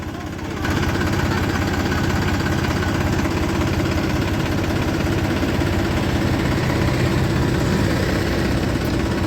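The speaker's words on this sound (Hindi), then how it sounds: "एक ट्रैक्टर और आ रहा है मॉडिफाई। दोस्तों उसमें भी सेम हमारे 245 वाला इंजन है, न्यू हॉलैंड का है, 4710 आ रहा है फटाफट।" A modified New Holland 4710 tractor fitted with a 245 engine runs in a loud, steady diesel drone that stays constant for the whole stretch, with no talking.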